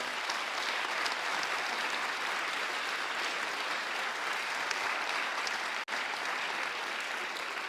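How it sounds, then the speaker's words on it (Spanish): Audience applauding six speakers at a university presentation event, dense continuous clapping from a sizable crowd that carries on steadily with no voices over it. "Yo creo que se merece un aplauso los 6."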